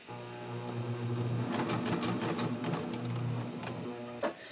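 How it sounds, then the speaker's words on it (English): A sewing machine runs slowly, stitching a triple cover hem on a neckline. It makes a steady, close mechanical whir with rapid needle ticks, then stops with a brief clunk near the end. "Just going to go really slowly."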